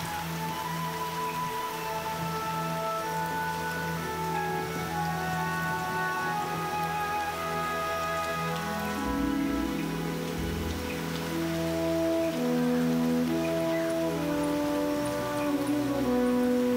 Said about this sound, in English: In the downpour